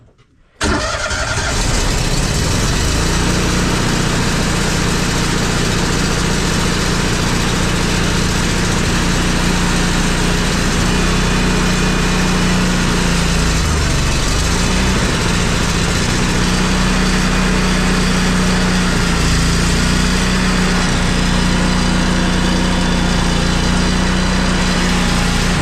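A John Deere 5067E tractor engine cranks and catches almost at once on a cold start, then runs at a steady, loud, close idle for the rest of the time, with no voices.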